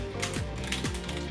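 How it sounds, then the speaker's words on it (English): Light touch switches on a Roccat Vulcan gaming keyboard being typed on at close range, giving a steady run of soft, quick clicks with a few gliding mechanical tones. "these touch switches are light, fast, and less loud"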